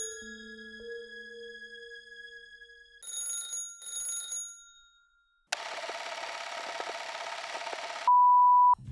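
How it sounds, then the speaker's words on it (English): Two short bursts of electronic ringing, after earlier steady tones, then a loud hiss that ends in a sustained beep. "the telephone begins ringing again"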